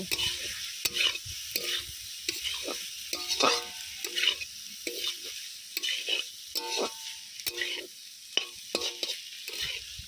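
Spatula scraping and stirring chilli and turmeric powder through frying banana-flower mash with prawns in a pan, a steady run of short rhythmic scrapes over a soft sizzle, close and fairly quiet with no talking.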